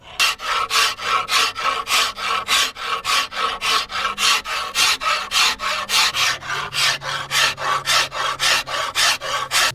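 Hand rasp working down the limbs of a fire-hardened hickory self bow, loud steady rasping strokes in an even rhythm, about two per second, close up and continuing for nearly ten seconds with no voices.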